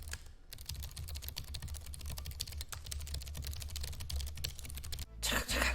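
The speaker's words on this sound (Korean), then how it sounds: "이 타이핑을 해보면 그 느낌이 참 오묘한데요." Rapid typing on the full-size keyboard of an Aorus 17X gaming laptop, with dense, clicky keystrokes in quick irregular bursts close to the microphone, followed by a short louder rustle at the end.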